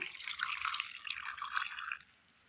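Water pours in a steady, bright splashing stream into a grinder jar holding ginger and green chillies for about two seconds, then stops abruptly, leaving quiet.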